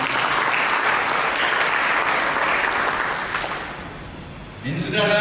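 A church congregation claps together in a full, dense burst of applause that fades after a few seconds, followed by a voice beginning to speak.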